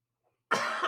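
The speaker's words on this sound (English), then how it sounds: "Apologies for the coughing." A single sharp cough bursts in after half a second of silence, loud and close to the microphone during a gaming news chat.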